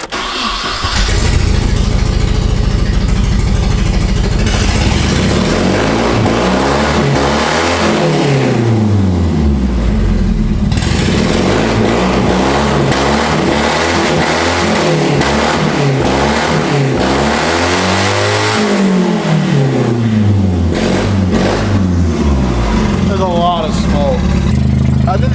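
Loud, rough-sounding Nissan 240SX engine running and revving steadily and up close, with repeated rising and falling pitch sweeps as it drives and accelerates, filling the whole stretch without a break.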